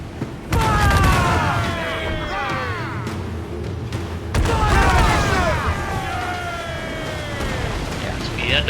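Ship cannons fire in a naval battle in Assassin's Creed Black Flag, two heavy booming volleys each followed by a long rumbling, crackling roar, with shouting voices over them.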